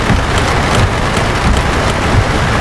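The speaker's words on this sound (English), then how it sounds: "So this is the first time you've experienced rain in this game." Steady rain in the 18 Wheels of Steel Across America truck-driving video game, a dense even hiss of falling drops with a faint low rumble beneath, continuous and loud throughout with no voices.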